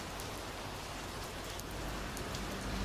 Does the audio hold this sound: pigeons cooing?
no